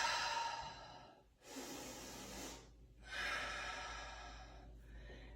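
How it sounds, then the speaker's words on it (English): Two slow, deep breaths taken during a hip stretch, each a long, soft airy exhale with a brief pause between them, close and quiet, with no talking. "just try 2 more big breaths"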